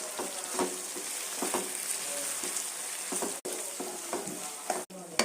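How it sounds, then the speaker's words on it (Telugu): Tomatoes fry in a pan after ginger garlic paste for a gongura chicken curry, giving a constant close sizzle with repeated soft stirring scrapes and a couple of brief drop-outs. "ఇప్పుడు టమాటాలు బాగా వేగాయి కదండి"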